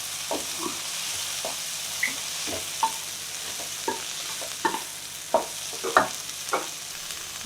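Broccoli stir-frying in a hot pan for white sauce pasta: a constant close sizzle punctuated by regular scraping and tossing strokes roughly every half second, moderately loud, with no one speaking.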